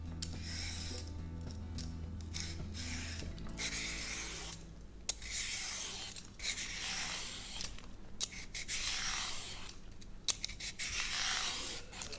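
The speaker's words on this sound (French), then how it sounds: "Épluchez la carotte et vous pouvez la tailler en ruban à l'aide d'un éplucheur." Carrot peeled into ribbons with a vegetable peeler, a series of close, dry scraping strokes repeating in bursts with short pauses between them, no voices.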